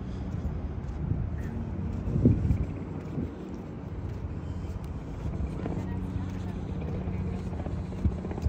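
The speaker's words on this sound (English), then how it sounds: "Helicopter." A helicopter flies over downtown Nashville, its low rotor rumble droning steadily beneath city street noise and light wind buffeting, with faint voices nearby.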